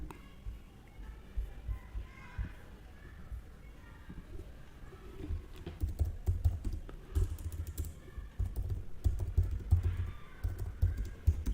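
Computer keyboard typing while code is written, rapid irregular key clicks in bursts, close and moderately loud, with someone talking at times.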